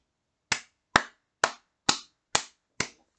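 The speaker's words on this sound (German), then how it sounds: "Applaus, Leute." Six single hand claps ring out close and dry, evenly spaced about half a second apart, each sharp and quickly fading, like a slow sarcastic clap with nothing else around it.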